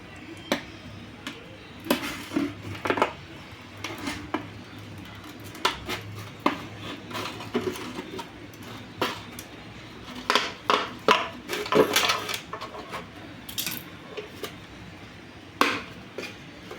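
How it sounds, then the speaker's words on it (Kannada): A heated knife slicing through material at close range in a home craft setting, making a run of short, irregular scraping and tapping contacts with quiet gaps between strokes. "ಈಗ ಸ್ವಲ್ಪ ಚಾಕುನ ಬಿಸಿ ಮಾಡ್ಕೊಂಡಿನಿ ರೀ ಫ್ರೆಂಡ್ಸ್, ಅದಕ್ಕೆ ನಾನು ಕಟ್ ಮಾಡ್ಕೋತೀನಿ ನೋಡಿರಿ ಈ ರೀತಿ"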